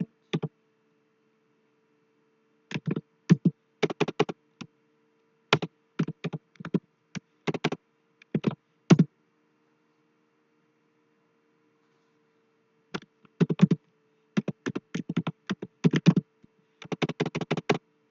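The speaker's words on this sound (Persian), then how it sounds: "هرچه من ناخونم بلنده هرچی تایپ میکنم و غلط میشه" Computer keyboard typed on with long fingernails: close, crisp clicking in irregular bursts of quick keystrokes, separated by silent gaps, including a long pause midway, with no talking.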